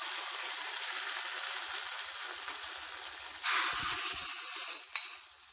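Hot mustard seed tempering for a bottle gourd curd curry sizzles steadily, then a sudden louder gush and hiss as it is poured into the curry, followed by a second brief burst before fading, with no talk.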